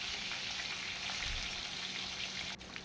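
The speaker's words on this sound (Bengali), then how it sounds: "ভাজতে একটু সময় লাগবে, ধৈর্য ধরে মাছগুলোকে ভাজতে হবে।" Katla fish pieces frying in oil in a pan, giving a steady, close, continuous sizzle with fine crackling throughout.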